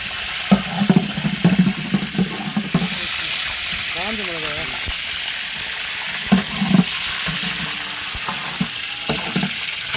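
Garlic fries in oil in a pan with a loud, continuous sizzle, punctuated by stirring clatter and brief bursts of voices talking over the cooking.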